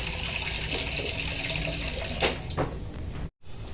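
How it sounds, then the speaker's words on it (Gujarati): Water runs steadily into a cooking pot while a cook prepares spicy yogurt tikhari, a continuous splashing pour that swells briefly, then cuts off abruptly and resumes faintly. "પાણી નાખી દઈએ"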